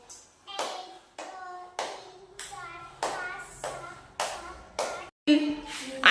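A child claps eight times in a first-grade counting activity, the claps evenly spaced and sharp, each with a brief ringing tail in a small room, and a short noisy burst at the end.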